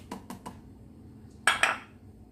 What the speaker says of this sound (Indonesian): Terus kita aduk